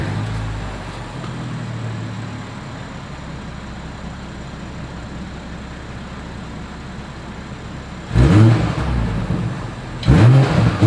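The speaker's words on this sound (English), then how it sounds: "As always, here is that exhaust clip." The 2021 BMW X5 xDrive40i idles quietly at first, then gives two sharp, loud revs of its exhaust near the end, each a short burst that quickly falls away.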